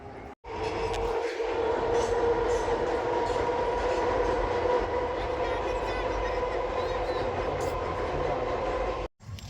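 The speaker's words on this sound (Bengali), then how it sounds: "আবার একটা ট্রেন আসছে" A train rumbling steadily past on a bridge over a river with a loud, sustained rolling roar and metallic hum, close by, filling the whole stretch.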